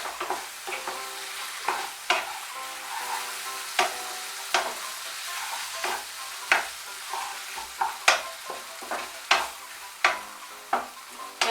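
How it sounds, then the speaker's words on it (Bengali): Mustard and poppy seed paste being stirred through bitter gourd in a pan with a little water, a soft sizzle punctuated by regular scraping strokes and utensil knocks, close and clear, about every second. "দিয়ে সর্ষে আর পোস্তটা ভালো করে করলার সঙ্গে মিশিয়ে নেব।"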